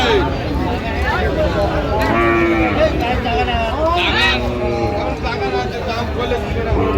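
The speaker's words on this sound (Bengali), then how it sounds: "বেশ সুন্দর গরুগুলো সংগ্রহ করছে মাজারুল ভাই।" Cows moo repeatedly at a busy cattle market in Munshiganj, Bangladesh, where bony dairy cows are being traded. The calls sit among steady crowd chatter and nearby talk.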